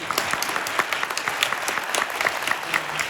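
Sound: audience applause

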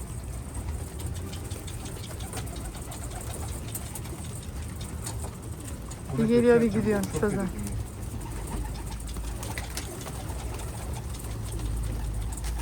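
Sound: caught runaway pigeon

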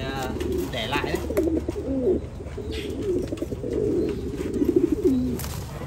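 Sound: pigeons cooing in a pigeon loft

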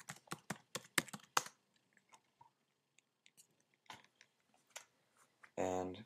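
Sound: typing a password on a Mac keyboard

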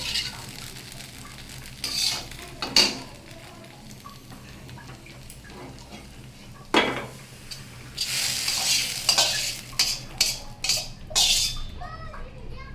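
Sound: stir-frying okra (ladies' finger) in a pan

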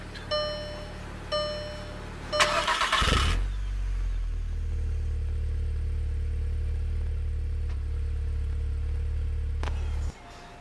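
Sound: 2013 Volkswagen Golf R engine push-button start

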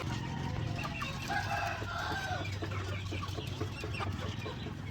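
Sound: chickens clucking

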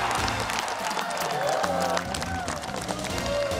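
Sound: game show studio audience applause and cheering

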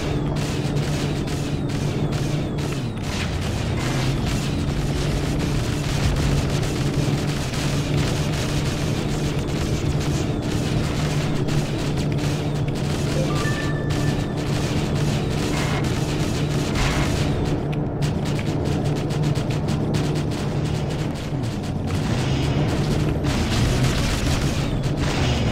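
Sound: explosive gunfire from another player shooting, in a video game

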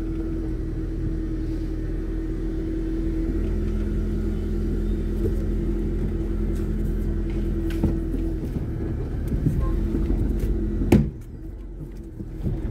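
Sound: car being pulled out of a parking spot

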